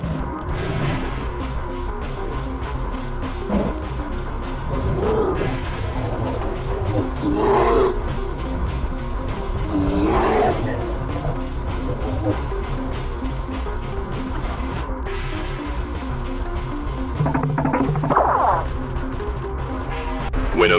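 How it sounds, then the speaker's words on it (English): A male lion fights a black bear, with deep roars and growls over a dense, loud, continuous wash of scuffling and thrashing, heard close throughout. "When a black bear wandered into the wrong territory, a very unusual fight occurred as a male lion decided to drive the animal away"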